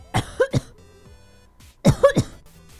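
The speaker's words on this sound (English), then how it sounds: "Do excuse me for having a cough." Two bursts of a person coughing, a pair of sharp harsh coughs followed after a short pause by another cluster of coughs, close and fairly loud with a quiet gap between.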